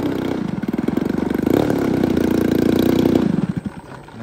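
A model airplane glow engine, a GP123, runs steadily at high revs, buzzing and pulsing close by before fading slightly at the end.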